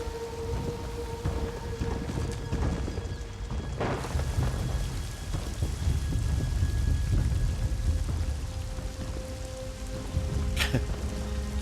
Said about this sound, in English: Summon the storm Archonok with thunder and rain clouds.